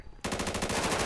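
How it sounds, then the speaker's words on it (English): Rapid automatic gunfire in a FiveM GTA V roleplay standoff with a barricaded suspect, a loud burst of evenly spaced shots starting abruptly after a brief quiet moment and running without pause. "Shots fired, suspect down."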